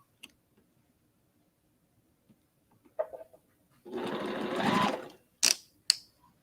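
A sewing machine stitches a quilt block in one steady burst of rapid mechanical whirring lasting about a second, close up, among scattered clicks and handling taps in a quiet room.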